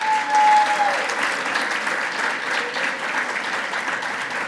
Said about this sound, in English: You notice nobody's holding their applause